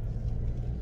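Alfa Romeo Giulia Veloce, a 280 hp car, idling or cruising at low revs with a steady, deep engine rumble, close and continuous, no voices.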